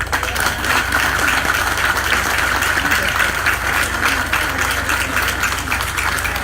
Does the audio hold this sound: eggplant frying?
no